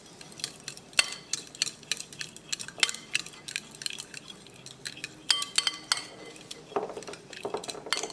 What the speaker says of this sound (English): and now we're going to mix it all